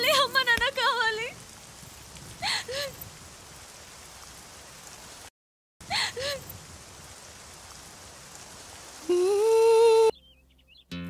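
Steady rain falls outdoors, a constant hiss of drops that continues under bursts of children's voices and playful exclamations.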